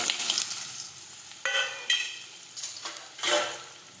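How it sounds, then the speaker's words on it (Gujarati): Mustard seeds and cumin hit hot oil in a pan, crackling and sizzling in a few sharp bursts as the seeds pop, close and fairly loud, with no talk. "હવે આપણે તેમાં રાઈ અને જીરું નાખી દઈશું."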